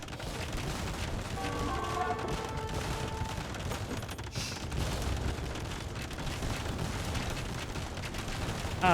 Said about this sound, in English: Ah, so that's the sound of organ guns.